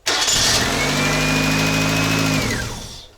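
A Volkswagen Jetta engine runs at a steady idle with a rising whine, then winds down and cuts off near the end; no voices.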